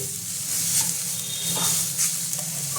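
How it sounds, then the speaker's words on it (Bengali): Grated carrot fries in a pan for carrot halwa, giving a steady, close sizzle with soft stirring scrapes throughout and no talk. "গাজরটা আমি ভালো করে ভেজে নেব"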